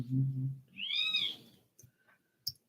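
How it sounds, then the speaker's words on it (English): A bird close by gives one bright, sweeping call after a low murmur, followed by a few faint chirps and clicks in a quiet room. "this bird decides to come right over by here and start making noise"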